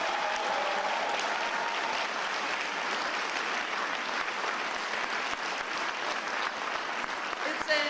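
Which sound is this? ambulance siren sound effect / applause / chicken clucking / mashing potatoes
applause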